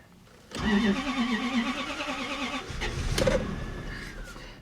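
A Lexus LS400 engine cranks and fires, then settles into a steady smooth idle, loud and close, with a brief revving swell near the end.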